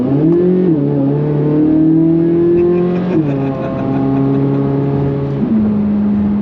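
A Chevrolet Corvette C8 Z06 engine revs hard while accelerating, its loud, steady howl climbing in pitch through several gear changes, heard close and alone.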